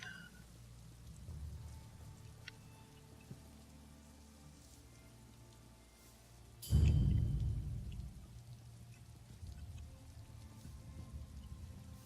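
In the Elder Scrolls Online game, rain falls as a soft continuous patter on surfaces, with a sudden low thunder rumble midway that fades slowly, all quiet and with no voices.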